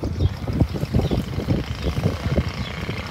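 Steady outdoor wind buffets the microphone at a buffalo colony market, a loud rumbling gusty roar that pulses unevenly throughout with no voices.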